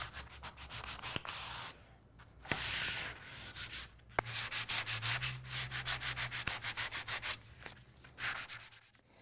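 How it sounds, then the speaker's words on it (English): Wooden letterboard pieces are sanded by hand to strip glue residue, giving close, rhythmic rasping strokes in bursts, with a few sharp taps between passes. "So I made sure to sand this super well because if you have any residual glue left on your wood, the stain will not stain."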